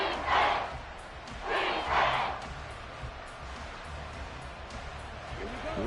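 A stadium crowd at a Cowboys vs. Commanders NFL football game roars in two or three swelling waves, then drops back to a constant distant murmur.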